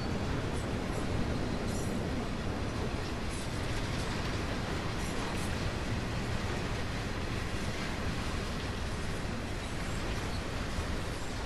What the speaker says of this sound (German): Zug beschleunigt immer noch mehr.